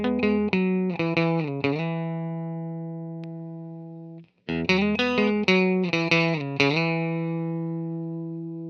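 Electric guitar played through a 1972 Fender Super Reverb amp with the bright switch on, bright clean chords and single notes strummed in bursts, ringing out loudly with a short pause between phrases.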